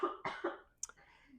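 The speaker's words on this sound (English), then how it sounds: "Do my little cough because apparently I have a lingering stupid cough" A lingering cough from a person with a cold: a few close, loud throaty coughs in quick succession, followed by a brief sharp throat sound and quieter breathy noise, with no talking.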